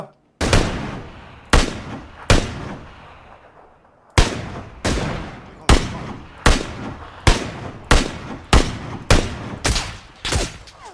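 Gunfire in a shooting video game: loud, close single shots, a few spaced at first, then a quick regular run of sharp reports, each with a short echoing tail.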